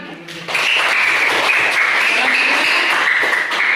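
Classroom applause from a group of students, a dense, steady burst of clapping that starts abruptly and continues evenly for several seconds, fairly loud and close.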